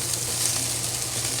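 Egg fried rice with a splash of light soy sauce sizzling steadily in a hot pan, a dense continuous crackling hiss, close and fairly loud with no pauses.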